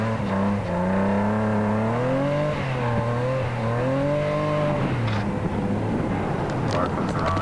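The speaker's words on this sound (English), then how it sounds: "I had too much lock there and I went into a full spin." A drift car's engine revs with a wavering, shifting pitch on a track, then breaks into a rough, noisy skid as it goes into a full spin near the end, loud and close throughout.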